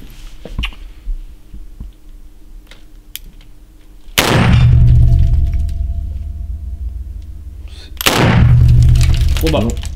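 A large, oversized-calibre handgun fires two heavy shots about four seconds apart at a shooting range, each a loud close boom with a long rumbling decay, with faint voices in between.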